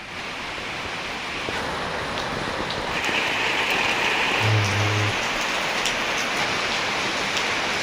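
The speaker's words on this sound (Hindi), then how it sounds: "देखो जी, बारिश हो गई है।" Steady rain pours down on surfaces nearby, a continuous dense hiss that swells slightly partway through.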